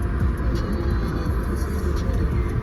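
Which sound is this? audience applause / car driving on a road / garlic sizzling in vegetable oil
car driving on a road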